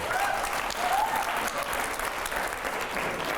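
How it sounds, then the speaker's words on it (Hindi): Loud, sustained applause from a studio audience during a televised interview, a dense wash of clapping that fills the whole stretch without a break. "जोरदार तालियां हर सवाल पे"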